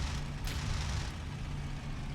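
Low droning rumble of an FW-190 fighter's piston engine in the IL-2 Sturmovik flight sim, heard close behind during a P-51 pursuit, a steady throaty hum with a brief whooshing burst near the start.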